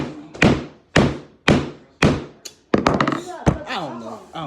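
A coconut is banged hard against a surface to crack it open: four loud, evenly spaced thuds, then a quicker cluster of knocks, with a voice talking over the later part.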